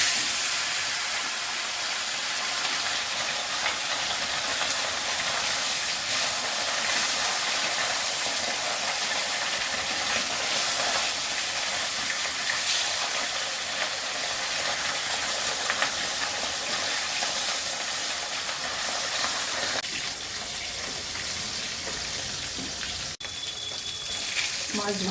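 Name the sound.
fish frying in mustard oil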